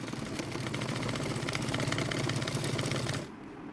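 A sewing machine hums at a steady fast rhythm while hemming a baby's plazo, running continuously for about three seconds before it stops.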